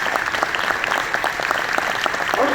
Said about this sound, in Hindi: मेरे सभी कलाकारों पर प्लीज जोरदार तालियां